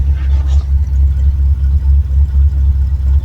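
A vehicle engine idles at about 1,000 rpm with a steady, low, pulsing rumble, close and fairly loud, with no talking.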